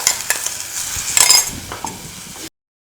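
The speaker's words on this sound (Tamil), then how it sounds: "இப்போ இந்த அரைச்சதை இதில் போட்டு லைட்டாக ஒரு வதக்கிக்கலாம்." Ground paste being sautéed with curry leaves in a pan for amla rasam: a short sizzle with a few spoon scrapes and light metal clinks, close by, and no talking, before the sound cuts off.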